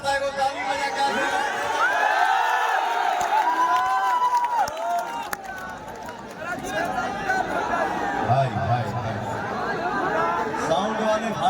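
Dense crowd at a Bhojpuri singer's election rally in Karakat, with a continuous roar of cheering, clapping and chatter throughout, a brief dip midway before the noise swells again.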